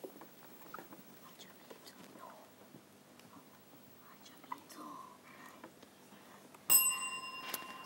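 A quiz-show buzzer bell rings out on a televised junior schools quiz, a bright sustained tone that cuts in sharply near the end after a quiet stretch of faint studio rustle.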